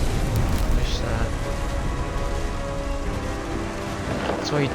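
A thunderstorm with a dense, continuous wash of heavy rain and low rumbling thunder fills the scene loudly, while voices talk over it.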